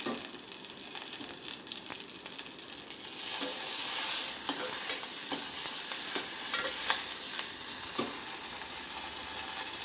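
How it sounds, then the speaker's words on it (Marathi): Cooked toor dal tipped into a pan of sizzling garlic and green chillies, a steady close hiss of frying oil with stirring scrapes and a few sharp clicks, louder after the first few seconds and running without pause. "तर हे बघा आपलं लसूण आणि हिरव्या मिरच्या छान लालसर झालेल्या आहेत आता आपण इथे टाकूया आपली शिजलेली तुरीची डाळ"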